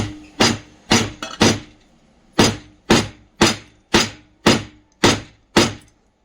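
Sharp, heavy knocks ring out as a high-speed ceiling fan's stator and rotor are struck downward to separate them, about eleven loud, close impacts, the first few quick and uneven, then spaced at a steady half-second beat.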